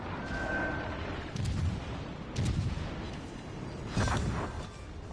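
Warship guns firing high-explosive shells from the destroyer Fubuki in World of Warships Legends: several heavy booming salvos at irregular intervals over a rumbling battle backdrop.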